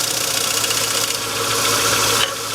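A wood lathe turns a bowl at 900 RPM, giving a steady mechanical hum and whir with a faint rhythmic rattle. It runs on its own at close range, with no one talking.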